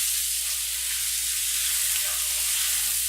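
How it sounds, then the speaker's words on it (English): Frozen corn sizzles steadily in a hot pan as it is stirred, a constant bright hiss with no talking. "And stir the corn around."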